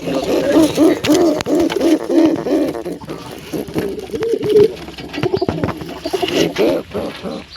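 A pigeon coos nearby in a repeated rhythmic series of soft hooting calls, with a few clicks and rustles around it.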